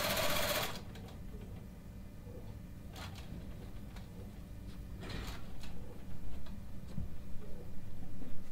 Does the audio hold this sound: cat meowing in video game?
no